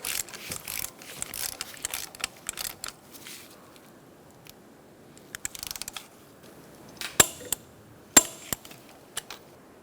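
A torque wrench tightening an engine mount bolt on a Ford Focus gives quick bursts of close ratcheting clicks, then a pause, then a few sharp louder clicks.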